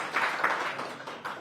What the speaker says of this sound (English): A better round of hand clap for everyone who's spoken